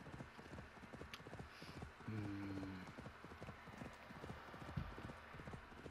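Horse hooves clip-clop in Assassin's Creed Valhalla, a steady, close, rhythmic trot that runs the whole time, with a brief tonal game sound partway through.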